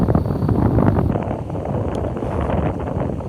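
Wind blows across the microphone in the Japanese countryside, a steady low rumbling buffet with gusty fluctuations and no voices.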